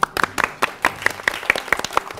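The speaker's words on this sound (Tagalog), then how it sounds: "Palakpak." A short burst of clapping from a studio audience on a talk show: about a dozen crisp, evenly spaced claps, close and loud.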